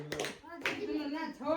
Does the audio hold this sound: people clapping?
yes